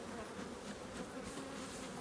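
Honey bees buzzing densely at a hive while being smoked, a steady close swarm drone with no pauses.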